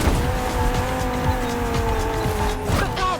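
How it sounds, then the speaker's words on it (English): A Mustang Boss 429 muscle car in the racing game The Crew Motorfest drives loud and close, its engine droning steadily while the tires squeal and skid, ending in a rising engine pitch. "There's an absolute classic heading your way, a grail among collectors and Jim's greatest pride, the Mustang Boss 429."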